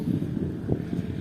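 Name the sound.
cold wind blowing outdoors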